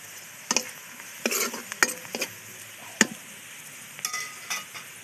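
Spiced fish sizzling as it goes into hot oil with fried onions, with a steady crackling fry broken by several sharp stirring scrapes and clinks, close and clear, with no talking.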